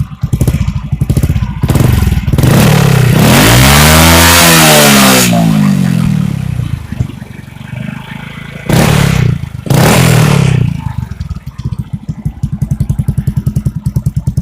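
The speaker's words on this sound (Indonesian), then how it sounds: "gimana kali ini gua mau coba aja ngegas" A Honda Astrea motorcycle with a custom racing exhaust idles with a rapid loud putter, then revs hard with rising and falling pitch, followed by two more sharp throttle blips.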